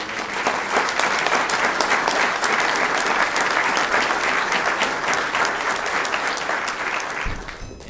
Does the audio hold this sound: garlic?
no